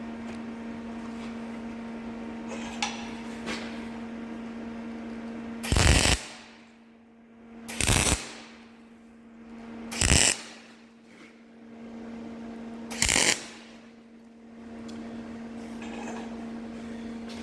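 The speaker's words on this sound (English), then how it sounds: "We can go ahead and just tack all four corners." Four sharp, loud bursts of tack welding on front lower control arm mounts for a Jeep Cherokee, each a second or so long and spaced a couple of seconds apart, over a steady machine hum.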